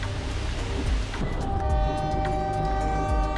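A scenic railway train to Kuranda in tropical North Queensland rumbles along steadily with a deep, continuous drone, while a long sustained horn tone enters partway through and holds to the end.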